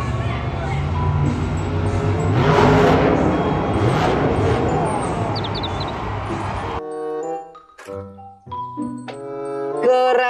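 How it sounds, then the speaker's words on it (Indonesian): A toy monster truck plays a loud, noisy engine-revving effect that swells and fades for several seconds, then breaks into a string of electronic tones. "Mobil truk monster."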